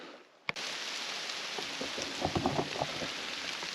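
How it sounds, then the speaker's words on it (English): A steady rain shower falls in the Colorado backcountry in a soft, continuous hiss, beginning just after a sharp click, with a few louder patters in the middle. "A rain shower."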